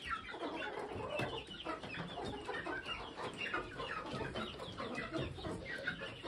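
A young yard stag rooster clucks steadily at night in a yard fowl setting, with continuous close, busy clucking and a few other fowl around and no talking.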